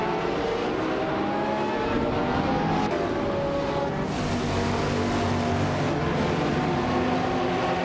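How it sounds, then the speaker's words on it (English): 2009 Pagani Zonda R race cars in a video game race at the Ricardo Tormo circuit, a loud, steady engine drone with shifting pitch as the cars rev and accelerate, no talk over it. "the race kicks off at Riccardo Tormo with Sovi on pole, in a 2009 Pagani Zonda R"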